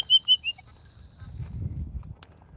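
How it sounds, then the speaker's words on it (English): A bird calls outdoors with three short, clear whistled notes close together at the start, followed by low rustling and handling noise. "You hear that bird?"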